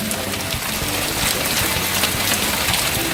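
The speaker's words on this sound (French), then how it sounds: "je me prends ça sur le Velux depuis tout à l'heure" Hail drums on a Velux roof skylight in a steady, dense patter, close and continuous, with no voices over it.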